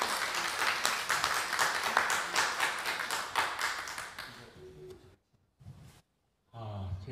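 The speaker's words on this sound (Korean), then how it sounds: "그럼 작가님을 다시 한번 큰 박수로 모시겠습니다" An audience claps in warm, dense applause to welcome Korean avant-garde artist Kim Kulim at a lecture event, steady for several seconds before thinning out, and a voice begins speaking at the end.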